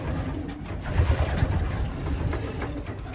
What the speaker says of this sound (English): There's that pigeon.